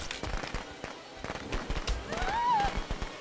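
In the Friday the 13th video game, firecrackers crackle in a burst of sharp, irregular pops. Footsteps and a short whistling tone sound alongside them, and a voice talks over the noise.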